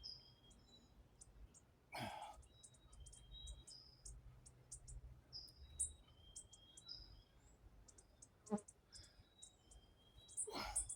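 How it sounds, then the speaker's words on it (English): A pet bird chirps nearby in a home during a workout, a steady scatter of high, quick tweets running throughout at moderate level, with a few louder thumps and rustles mixed in. "My friendly bird is near me."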